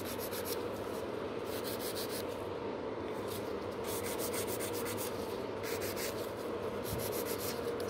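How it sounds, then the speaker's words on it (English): A nail file rasps steadily across the sides of gel nails in quick, even strokes, close and soft, with no talking. "And I'm just filing those sides."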